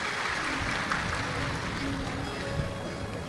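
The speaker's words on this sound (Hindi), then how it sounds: "एक बार जोरदार ताली बजाकर इनका स्वागत, वंदन, अभिनंदन।" Applause from a large audience at a Shiv Mahapuran religious discourse in Kashi, a steady broadband clatter of many hands that fills the whole stretch without a break.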